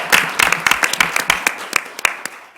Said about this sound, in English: Come on, give Herbert a round of applause